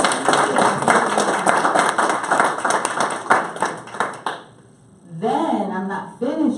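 A round of audience applause at a community action board meeting, dense clapping for several seconds before fading, then a person begins speaking.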